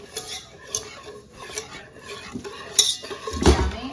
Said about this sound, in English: he's getting the whisk. I'm gonna mix it up really good.